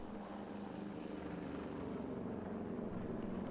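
A military helicopter, a C-725, drones continuously with a steady low rotor throb and broad rushing noise, holding at a constant distance.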